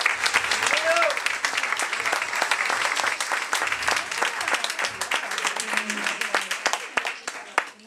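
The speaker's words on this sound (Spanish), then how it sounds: "para quien pido un aplauso enorme" Dense, sustained audience applause fills a live music show at La Botica del Ángel; a crowd claps close and loud, thinning toward the end.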